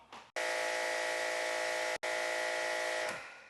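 An ASQUAR electric pressure washer runs its motor and pump with a steady high whine, starting abruptly, cutting out briefly midway, then resuming and winding down at the end, loud and close.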